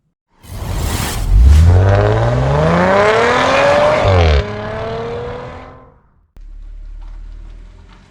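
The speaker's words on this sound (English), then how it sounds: "I'll bring the car in" 2013 Audi S4 B8.5 driven into a warehouse, its engine note rising and sweeping up through the revs, loud and close, then cutting off before a lower steady hum.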